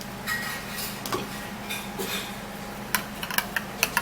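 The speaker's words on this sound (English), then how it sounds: "And then we'll stir it all out." A spoon stirring a coconut milk mixture in a small bowl, light quick clinks and taps against the bowl, sparse at first and then coming in a quicker run near the end, close and quiet with no talk.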